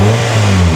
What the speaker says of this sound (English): the car has been running for about a minute or two now